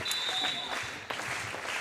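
Volleyball fans in a high school gym standing and cheering at set point, a crowd roar with applause, whistles and shouts rising and falling across the short span.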